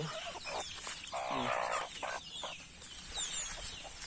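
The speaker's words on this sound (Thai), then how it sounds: "เนาะมีไก่" Chickens cluck repeatedly at close range around a rural Thai village house, with a rooster-like call mixed in and steady outdoor background noise, and no talking.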